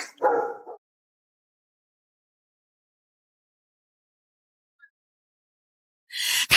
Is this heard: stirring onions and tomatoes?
no